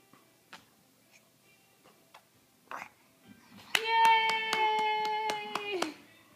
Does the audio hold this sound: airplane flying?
no